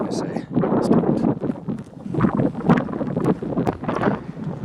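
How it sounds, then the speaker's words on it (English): Gusty wind buffets the microphone in a loud, steady rumble, with voices talking underneath the roar. "It's getting windy."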